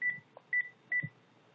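A telephone dials out to call Yaniv: three short, clean keypad tones in quick succession, each followed by small low clicks, with a quiet background.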